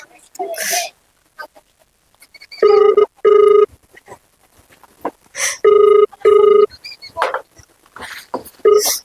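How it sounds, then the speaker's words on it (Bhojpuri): A telephone rings on an outgoing call, repeated ring bursts in pairs sounding through a phone line, with people talking in between and around the rings. "अब हम का करी, बार बार फोन फिर लगा"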